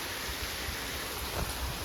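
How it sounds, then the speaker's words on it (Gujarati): Heavy, continuous rain pours down outdoors in a village during a days-long downpour, a steady dense hiss with soft low rumbling underneath, close and even throughout, with no voices. "અત્યારે જો પાછો છે ને વરસાદ વધી ગયો"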